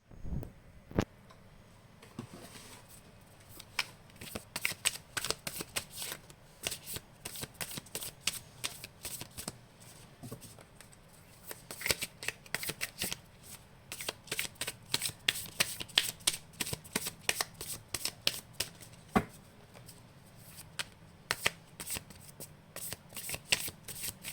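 Tarot cards shuffled steadily for over twenty seconds, a dense run of crisp riffling flicks and soft slaps close up, with no voices.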